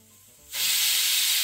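A pressure cooker suddenly lets out a loud, close hiss of steam partway through, which then stays as a continuous rushing sound after a quiet start.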